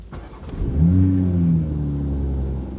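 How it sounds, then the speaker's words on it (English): A stock 2020 Toyota Supra GTS engine cold-starts, cranking and firing up, revving briefly before settling into a loud, rumbling idle. "Cold start in a 2020 GTS model."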